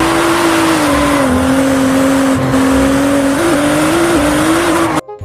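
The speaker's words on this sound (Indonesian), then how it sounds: "ada mobil balap." A race car engine holds a loud, steady drone up close, its pitch barely shifting with small jumps as it runs, then stopping abruptly at the end.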